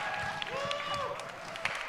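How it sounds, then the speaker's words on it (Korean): A youth worship service audience applauds and cheers as the intro team leader, an electric guitarist, comes forward; crowd clapping runs under sustained tonal sound, likely a voice or instrument, with faint cheering mixed in. "한번 큰 박수와 환호로 축복해 주세요."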